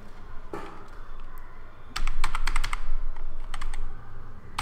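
Fingers typing on a computer keyboard, an isolated tap followed by a quick burst of clicky keystrokes and a few scattered presses, close and clear.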